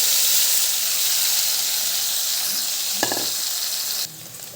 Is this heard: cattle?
no